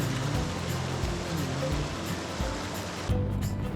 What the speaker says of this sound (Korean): 아마 이 물이 아까 그 폭포로 흐르는가 봅니다.